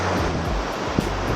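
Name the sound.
ocean surf waves on the shore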